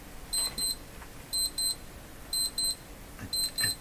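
While the tubes of a Canadian Sylvania Model 1102 five-tube radio are tested, a clear electronic beeper sounds in repeated pairs of short, bright beeps at a regular rhythm, with no talking.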